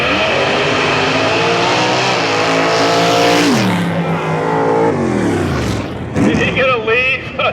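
Injected small block Chevrolet dragster roaring down the strip at a drag racing reunion, a loud engine howl that climbs and then drops as it passes, followed by rising revs and tire noise near the end, with crowd and commentary voices mixed in.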